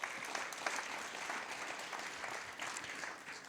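An audience at a national panel discussion on justice claps for future leaders in a sustained round of applause at moderate distance, with no speech over it.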